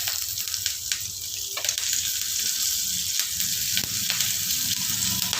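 Curry leaves frying in hot oil for Tamil ven pongal, a steady close sizzle and crackle that runs continuously throughout with brief sharper pops.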